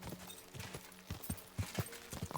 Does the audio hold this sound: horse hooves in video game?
yes